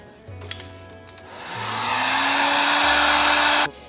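A hair dryer blows on a watercolor painting, starting with a few clicks and a low hum, then swelling into a loud, steady rushing whoosh before cutting off abruptly.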